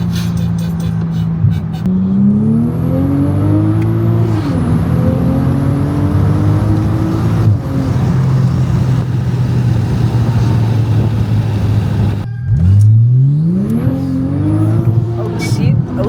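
A Toyota A90 Supra engine pulls hard through the gears, its note climbing and dropping with each shift, loud and close from inside the car, with a whining whir on top.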